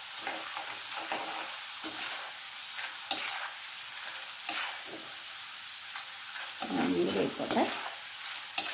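Spices fry in a generous amount of hot oil for a special pickle: a steady, close crackling sizzle with scattered sharp pops and stirring scrapes, and a brief murmur of voice.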